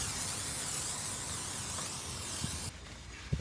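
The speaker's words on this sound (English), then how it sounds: "Just spray that on there." Peel Tec cleaner hisses from a spray bottle onto a surface in one steady, close burst lasting a few seconds, then cuts off, leaving faint handling noises.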